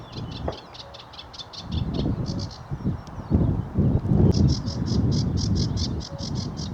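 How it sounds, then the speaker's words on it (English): Rhythmic rasping bursts of a reed warbler's song repeat over open marshy terrain, heard under low rumbling wind and footstep noise. "Sorry, I meant reed warbler."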